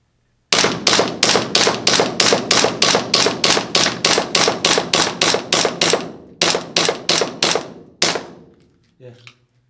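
About twenty evenly spaced gun shots fired at a target from roughly five metres, loud sharp cracks in a steady rhythm with a brief pause near the end, followed by a few softer clicks.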